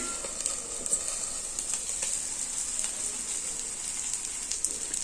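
Fresh fish fries on a tawa over a low flame, giving a steady bright sizzle that crackles continuously and stays close and unbroken.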